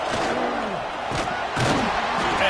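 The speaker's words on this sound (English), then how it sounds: "This crowd ready to make its presence known" A football stadium crowd at a Penn State versus Razorbacks game roars and shouts in a continuous, loud wash of massed voices with a few thumps, heard close and dense throughout.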